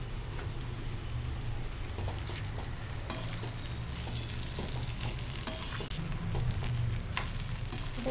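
Sago khichdi mixture sizzling and frying in a pan, a steady crackling hiss with occasional scraping stirs, close and continuous with no talking.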